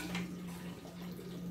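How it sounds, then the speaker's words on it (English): Water running into a cooking pot for a milkfish soup with banana blossom, a soft continuous splashing flow, faint and close, with a steady low hum beneath it. "So, we'll add water."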